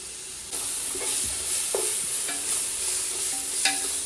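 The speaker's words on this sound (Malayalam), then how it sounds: "നമ്മളതിലേക്ക് വെളുത്തുള്ളി പേസ്റ്റ് ഇട്ട് കൊടുക്കുന്നേ" Garlic and ginger paste frying in a hot pan while chicken biriyani is made, giving a steady close sizzle with a few sharp clinks and scrapes of stirring.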